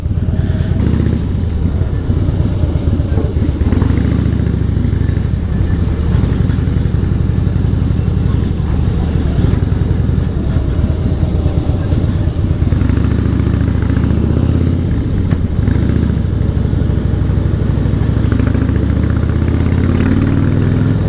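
A heavy Harley-Davidson Fat Boy motorcycle engine rumbles steadily and loudly throughout, a deep throbbing drone with occasional rises as the bike rides on.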